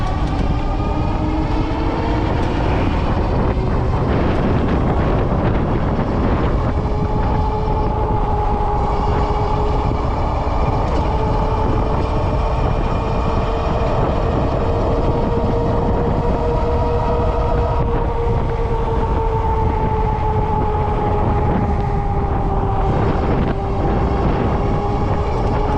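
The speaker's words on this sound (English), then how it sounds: "I think it's just the wind blowing" Steady, loud rushing wind or motion noise with whining tonal drones that slowly rise and fall, continuous and close, while Philodo Falcon bike tires are being tested for speed; no voices.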